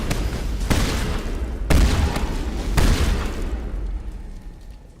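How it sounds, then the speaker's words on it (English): Rapid bursts of gunfire from Spectre Master Gear in Mass Effect, loud and close, three heavy booming volleys in quick succession with no talk, tapering into a fading rumble. "I'm using the Spectre Master Gear, so I can shoot pretty damn quickly"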